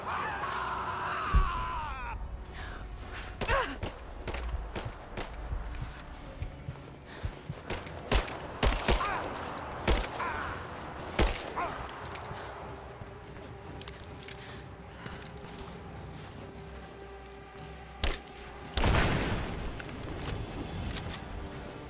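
Gunfire rings out in the Rise of the Tomb Raider video game as a series of sharp, scattered shots and bursts spread irregularly across the scene. Game sounds and a faint voice mix in among them.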